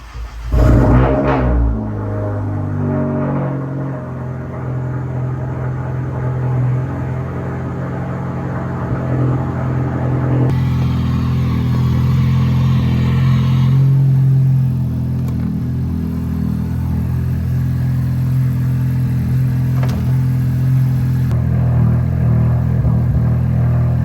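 A car engine turns over for its first start after a turbo install, cranking briefly then settling into a loud, steady idle that rumbles close by for the full span, its tone shifting partway through, with no voices.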